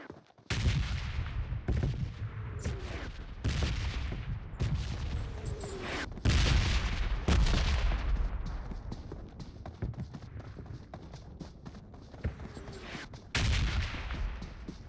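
Repeated booming explosions from a bombing zone in PUBG Mobile, one after another at irregular intervals, loud and close, with rumbling aftermath between blasts.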